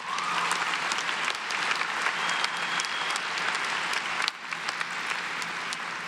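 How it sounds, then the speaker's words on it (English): A 2016 Emerson College graduate commencement audience applauds, with dense, sustained clapping that fills the space and continues steadily throughout without any talking. "Give yourself a round of applause"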